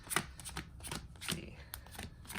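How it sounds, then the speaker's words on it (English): A deck of cards being pile shuffled, a series of crisp, irregular slaps and clicks as cards are dealt down into piles, close and fairly quiet. "we'll just pile shuffle"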